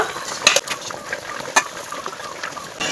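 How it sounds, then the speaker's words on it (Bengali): Fried fish going into a pot of boiling fish curry gravy, with a busy bubbling sizzle broken by a few sharp clinks and splashes from utensils, close and fairly loud, no speech. "ঝোলটা ফুটে গেছে ভেজে রাখা মাছগুলো দিয়ে দেব"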